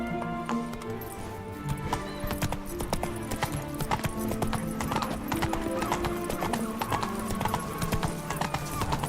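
Horse hooves clip-clopping at a steady walking rhythm as Geralt's horse Roach moves in The Witcher 3: Wild Hunt, with background music and a brief voice over the hoofbeats.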